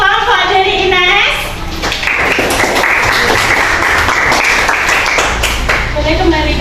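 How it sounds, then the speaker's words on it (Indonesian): Primary-school classroom applause for a student group, children clapping in a fairly close, busy burst with young voices chattering over and around it. "Beri tepuk tangan dulu untuk kelompok dari Ines."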